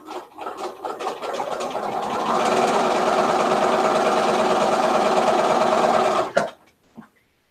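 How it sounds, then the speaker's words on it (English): A sewing machine runs in one steady, close burst, stitching quilt block pieces for an Entwined Star quilt block, then stops with a few clicks. "Let's sew just a hair or skosh to the right of our line."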